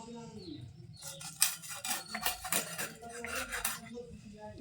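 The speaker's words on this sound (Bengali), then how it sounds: "এই দেখো এরকম করে আমি পিস পিস করে সব মাছ কেটে নেব" Rohu fish is cut into pieces in a home kitchen, giving a quick, uneven series of close metallic clinks and knocks against a dish, with faint bird chirps in the background.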